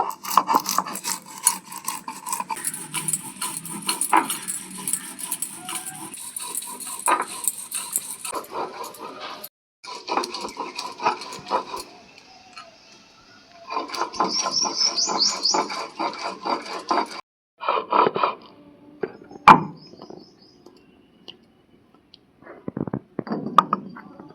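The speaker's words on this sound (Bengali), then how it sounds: "সর্ষে পোস্ত বেটে নিচ্ছি দুটো কাঁচা লঙ্কা সব একসাথে বেটে নেব" Mustard seeds, poppy seeds and green chillies are ground into a paste with repeated rough, gritty rubbing strokes, coming in bursts separated by short pauses, close and moderately loud, without talking.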